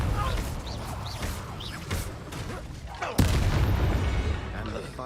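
Confringo blasting spells explode in combat against dark wizards in Hogwarts Legacy, a run of dense booming blasts ending in a heavy impact followed by a sustained rumble.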